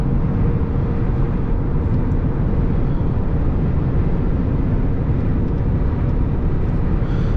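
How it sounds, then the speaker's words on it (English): An Audi A4 Ultra with a Miller cycle engine climbs a hill, heard from inside as a steady, muffled low engine drone blended with road and wind noise, constant in level throughout. "No trouble getting up the hill with my Miller cycle engine"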